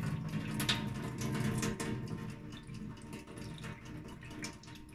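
Rinse water drains steadily off chopped courgettes, onions and peppers being prepared for relish, a continuous close splashing and trickling with no voices.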